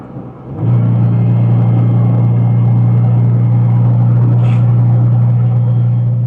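A car travels along a forest road in Arizona's White Mountains high country, with a loud, steady low engine drone that starts abruptly and holds evenly from inside the cabin.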